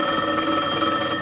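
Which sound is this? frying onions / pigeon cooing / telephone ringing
telephone ringing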